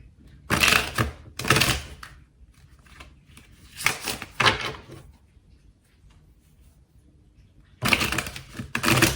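Tarot cards are shuffled in quick rustling bursts, riffles and flicks separated by short pauses of near silence.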